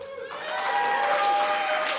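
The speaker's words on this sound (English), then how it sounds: "round of applause if you had a good time" Audience applause at the close of an event, clapping rising quickly after a brief voice and holding steady at moderate loudness.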